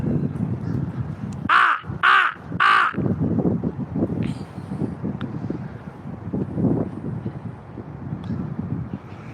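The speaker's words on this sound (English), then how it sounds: "Look, there goes some of my crow buddies." Crows caw outdoors near a courthouse, three loud harsh calls in quick succession followed by fainter cawing, with wind buffeting the microphone.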